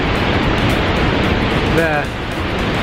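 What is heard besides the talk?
waterfall in Yosemite National Park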